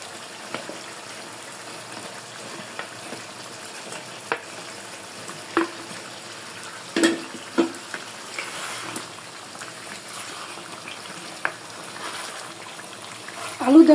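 Potatoes going into a pan of sizzling, browned country chicken, a quiet, continuous fry hiss broken by scattered taps and scrapes of a spoon, growing louder near the end.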